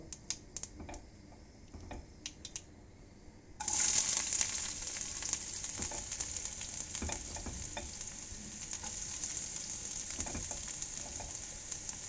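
Onions dropped into hot oil for a clove bean stir fry, a quiet pan suddenly bursting into loud, steady sizzling with crackles and occasional stirring ticks, no voices.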